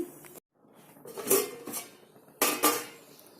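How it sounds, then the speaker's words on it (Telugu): A metal spoon clatters and scrapes against a cooking pot while masala is stirred, in several loud close bursts separated by short pauses, with no talk. "ఒకసారి కలుపుకోండి మధ్య మధ్యలో కలపాలండి లేకపోతే మాడిపోతుంది"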